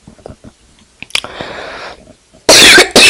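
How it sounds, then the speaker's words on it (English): Scattered small mouth and throat noises lead into two loud, close coughs at the end, the second cut short. "I cough a lot in this because I'm sick still."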